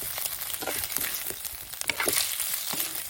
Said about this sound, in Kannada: ಮೊಟ್ಟೆಯನ್ನು ಹಾಕಿ ಸ್ವಲ್ಪ ಫ್ರೈ ಮಾಡುವ.